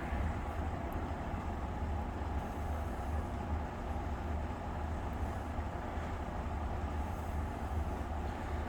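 Vintage Viking 22-inch belt drive window fan running on low speed in exhaust mode, giving a steady, continuous low whooshing hum with no voices over it.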